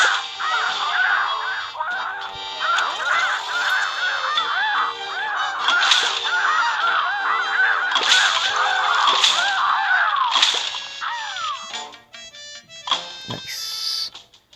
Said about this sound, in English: Believe it or not, this is exactly what fighting real seagulls is like.